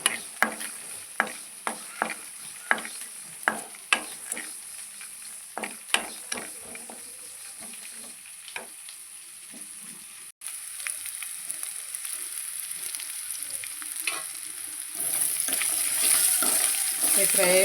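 Peanuts and sesame seeds frying in a pan, with a steady sizzle and sharp, regularly spaced scrapes and clicks of a spoon stirring them; the hiss grows louder and denser toward the end.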